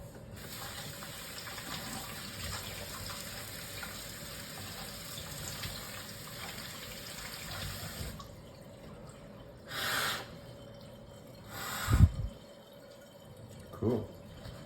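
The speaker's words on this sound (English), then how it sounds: "now we can run some water through it to clean it all out" Tap water runs through a pipe carved from a banana to rinse it out, a steady gush that stops, followed by a few short splashes and drips.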